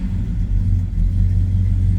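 Steady, loud rumble of a 1966 Chevrolet Chevelle SS 396 big block V8 idling close by, deep and even with a slight lope throughout.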